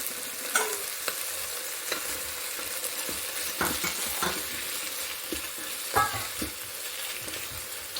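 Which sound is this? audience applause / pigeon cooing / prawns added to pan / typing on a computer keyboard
prawns added to pan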